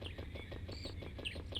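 Birds chirp in the video game Ape Escape, repeated short tweets and calls over a steady low ambient hum, moderately quiet and continuous throughout.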